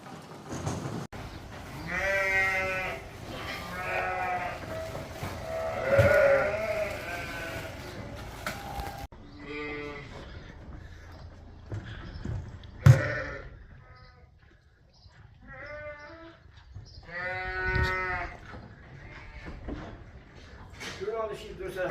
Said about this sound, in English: Will we be able to keep the sheep, Tom?